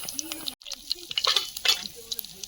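Black cumin, a dried red chilli and two bay leaves hit hot oil in a wok for an egg curry, giving a crackling sizzle with stirring scrapes while a voice talks over it.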